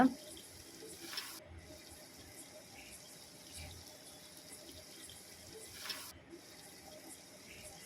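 Tamarind water poured into a village-style river fish curry, a running, splashing liquid stream close by with a couple of brief louder gushes, outdoors with faint background noise.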